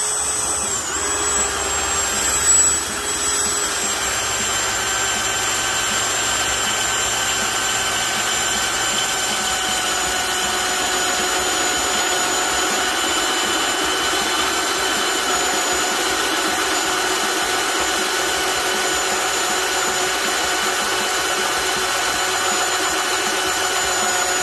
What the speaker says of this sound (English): So yeah, this drill has lots of torque.